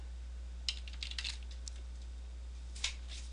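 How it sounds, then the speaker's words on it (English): A few light keystrokes on a computer keyboard, sparse clicks in two short bursts against a steady electrical hum in a quiet room. "Hit return or enter on your keyboard"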